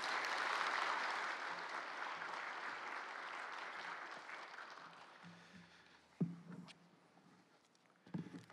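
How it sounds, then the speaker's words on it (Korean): A congregation at a Friday revival service claps to welcome a pastor, applause strong at first and gradually fading over several seconds, followed by a few faint thumps and footsteps in a quiet room. "장영진 목사님 나오실 때 한번 큰 박수로 환영하겠습니다"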